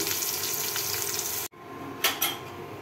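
Cinnamon, green chili and spices sizzling in hot oil in a pan, a continuous crackling fry that cuts out briefly, then resumes with a couple of sharp clinks of a utensil against the pan.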